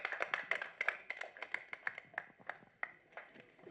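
Sparse, uneven clapping from a small group at a film audio launch event in Chennai, individual sharp claps standing out rather than a dense roar, tapering off toward the end.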